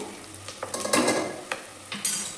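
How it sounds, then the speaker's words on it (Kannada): Onions frying in oil in a pan for chicken biryani, a steady close sizzle broken by several scraping stirs and clinks of a spatula against the pan, with no talking. "ಈರುಳ್ಳಿದು ಚೆನ್ನಾಗಿ ಬೆಂದಿದೆ ಆಯಿಲ್ನಲ್ಲಿ"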